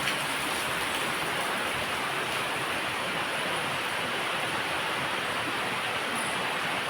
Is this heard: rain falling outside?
yes